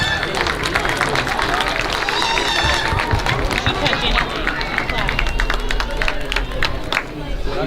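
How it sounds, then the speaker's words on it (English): Audience applause and clapping at a county junior livestock show, dense and steady throughout with crowd babble and voices mixed in. "Let's give them another well-deserved round of applause"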